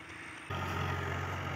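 A mobile crane and tractors work an earth-moving site: after a brief quieter moment, a loud diesel engine drone cuts in abruptly and holds steady and close, with no talking.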